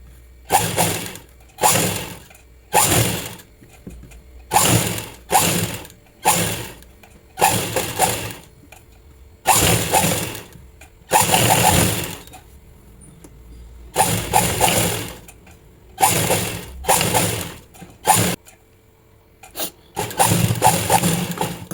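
A sewing machine stitches thread piping onto a blouse, running in loud, close bursts of rapid mechanical clatter that start and stop repeatedly, with short pauses between runs and no speech.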